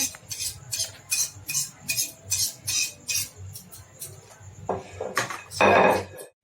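Metal knife scraping and tapping on a board while lifting cut pieces of mint nimki dough, a steady series of light clinks and scrapes in a quiet kitchen, ending with a louder clatter.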